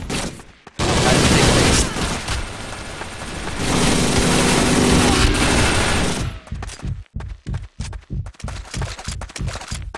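Rapid bursts of video game gunfire in a multiplayer shooter, a dense sustained volley giving way to a string of sharp separate shots near the end, loud and close.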